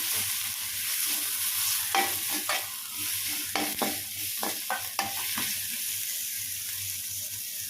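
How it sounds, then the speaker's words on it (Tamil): Tomato sautéed in a pan for semiya biryani, a low continuous sizzle broken by a burst of distinct scraping and stirring strokes in the middle, close-up with no voices. "சேர்த்துட்டு அதையும் நல்லா வதக்கிக்கலாம்."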